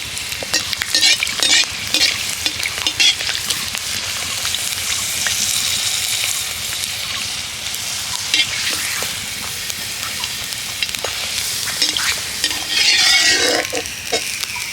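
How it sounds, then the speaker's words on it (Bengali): Another sago papad fries in hot oil with a close, bubbling sizzle, scattered sharp crackles and occasional utensil clinks, swelling louder near the end. "আরও একটা পাঁপড় ভাজা হয়ে গেল।"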